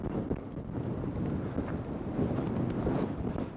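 Gusty wind buffets the microphone at an alpine lake campsite, a constant low rumble with rising and falling swells, with no talking.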